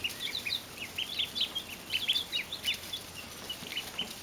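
Small flock of chickens being raised alongside ducks, giving soft, scattered clucks and short calls at moderate distance, repeating irregularly over a low steady background hiss.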